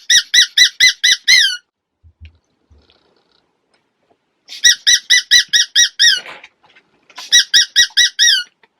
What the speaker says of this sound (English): I got a squeaky dog toy.